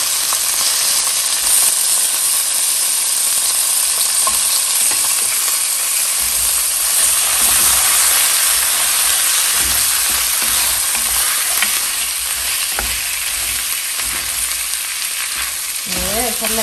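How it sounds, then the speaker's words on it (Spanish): Pork ribs frying and browning in a hot pan give a loud, continuous close sizzle and hiss, with occasional stirring clatter and no talking. "le voy a empezar a agregar lo que es nuestra costilla, porque quiero que darle un saborcito así como doradito"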